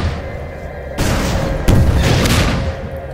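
Weapon fire in Half-Life 2: Lost Coast: a heavy booming shot lands, followed by a second louder blast that rings out and decays over a steady background hum.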